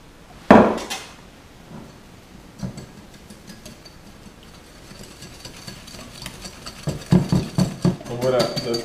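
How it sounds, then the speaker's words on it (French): A whole egg and a yolk are whisked with sugar in a bowl, giving faint scraping and ticking strokes that build into a fast, rhythmic clatter of whisk against the bowl near the end. "on va commencer par prendre notre œuf entier et le jaune et on va le blanchir avec notre sucre"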